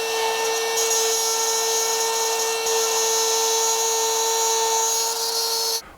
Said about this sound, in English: So I'll make the first pass, move the router bit in a little bit,